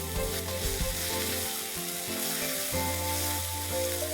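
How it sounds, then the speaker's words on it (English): Finely chopped tomato cooking in a pan with onions, garlic and chilies, a steady sizzle and frying crackle over a few soft stirring scrapes, close and continuous with no talking. "I'm going to add 1 tomato that I have finely chopped. And I'm going to cook these tomatoes till they are soft."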